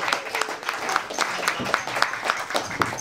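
A small audience at a stand-up comedy show claps, a thin round of clearly separate, fairly regular hand claps rather than a dense roar.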